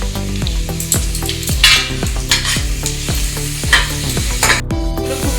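Mutton fries with Kashmiri chilli powder and spices in a pan, loud sizzling broken by regular scraping strokes of a spatula stirring the meat, close and rhythmic with no voices.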